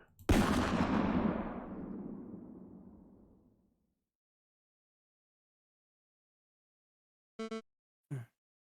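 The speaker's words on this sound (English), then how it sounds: "But the gunshot still fired." A single loud gunshot goes off in the video game Aviary Attorney, its sharp crack decaying over a few seconds into silence, followed later by two short vocal exclamations.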